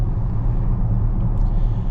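Steady low rumble of road and engine noise inside a 2025.5 Volvo XC90 B6 Ultra cabin with laminated glass, driving on a windy day; a continuous, subdued hum with no talk.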